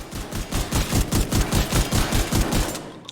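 Rapid automatic SMG fire in The Division 2 video game, a steady fast stream of loud close shots lasting about three seconds.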